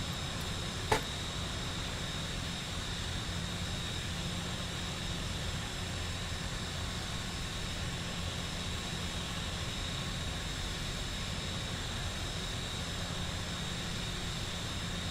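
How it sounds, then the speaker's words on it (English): A Cessna Grand Caravan in Microsoft Flight Simulator 2020 gives a steady, even turboprop engine roar with a constant high whine, heard alone for the whole stretch after one brief click near the start. "Cessna Grand Caravan. Well spotted."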